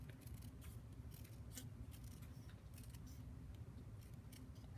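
Scissors snipping a small border around glued card, with a quick run of crisp, close cuts in uneven bursts over a steady low background hum.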